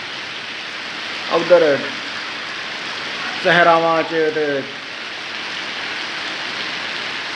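Steady rain falls continuously on the third straight day of downpour over a cotton-growing area, a broad even hiss throughout, with a voice speaking briefly over it twice.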